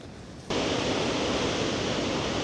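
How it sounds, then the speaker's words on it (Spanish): A powerful waterfall in Iceland's Golden Circle roars as a dense, steady rush of water, jumping abruptly louder after half a second and then holding a constant, close, hissing thunder. "de las cascadas más impresionantes y más fuertes es esta."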